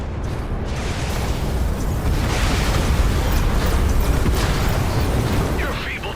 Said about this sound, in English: Several torpedoes are incoming.